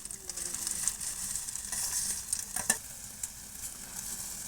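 A spatula stirs fried boondi into sugar syrup, making soft wet scraping and gentle sizzling with a few sharper clicks of the utensil against the pan, quiet and close.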